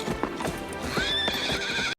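Horse hooves clip-clop steadily while a horse lets out a loud, rising whinny in a dramatic film scene from Legends of the Fall (1994), close and clear with no talk, cutting off abruptly near the end.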